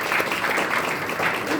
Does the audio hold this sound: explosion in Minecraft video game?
no